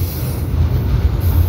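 A train passes at night: a loud, steady rumble of rolling wheels and cars close by, a continuous low roar with faint hiss above, lasting the whole stretch without talk.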